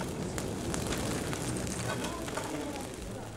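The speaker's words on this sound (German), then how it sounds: "Er beobachtet die Farbe der Flammen und lauscht dem Geräusch des Feuers." Charcoal fire roaring steadily inside a tatara furnace smelting tamahagane steel for katana making, a dense close crackle and rushing hiss with no pauses.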